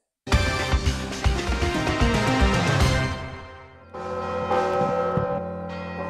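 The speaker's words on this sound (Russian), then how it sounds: "Весна сочная, день солнечный, колокольный звон разливается." Church bells peal loudly and continuously on a sunny spring day, a full layered ringing of many bells with dense overlapping strikes, a brief dip near the middle, then the chiming resumes strongly with no talk.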